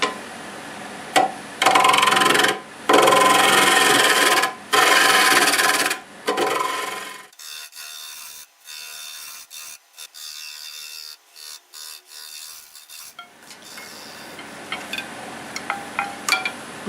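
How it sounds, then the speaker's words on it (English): A lathe with a tool flattening the bottom of a fresh-cut English walnut piece. Loud rasping cuts come in repeated bursts separated by short gaps, then give way to quiet scraping and faint ticks. "let's flatten that bottom off and see where we're at"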